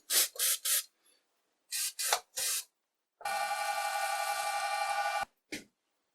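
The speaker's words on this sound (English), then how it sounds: "Let's cool it down with some brake cleaner." An aerosol can of brake cleaner sprays onto an overheating part of a homemade ball handle adapter for a cordless drill. Three short hissing bursts, then three more, then a long two-second spray and one final brief puff, all close and alone.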